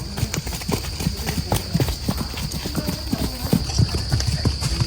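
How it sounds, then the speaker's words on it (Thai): Hooves of a horse being warmed up in a riding pen in Rayong clip-clop in a quick, steady rhythm, close and distinct, with someone speaking over the footfalls. "วันนี้เรามาวอร์มม้านะครับ"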